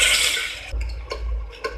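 Water is poured into a pan of cooked, mashed onions and tomatoes with a brief rushing splash, then low bubbling and a few soft drips and sizzles, close by.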